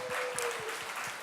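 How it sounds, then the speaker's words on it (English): Conference audience clapping after a call to thank the organizers, a steady continuous patter of many hands at moderate distance, with no talking over it. "So round of applause for amazing organizers that we got yet another edition of this fantastic conference."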